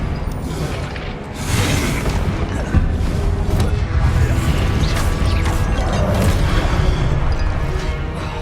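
Confringo blasting spells explode amid a combat scene in the video game Hogwarts Legacy: loud, sustained crashing and mechanical clatter with repeated sharp blasts, dense and continuous throughout.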